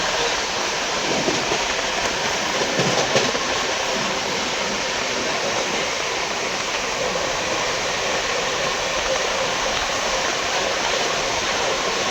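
The MGR Chennai Superfast Express (12163) runs at speed through hilly country between Tadipatri and Renigunta, a steady, loud broadband rush of wind and rolling wheels with no clear rhythm and no voices throughout.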